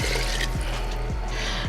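Water is poured steadily into a pot of red beans and vegetable broth for a Cajun-style dish, a continuous close splashing fill with no talking.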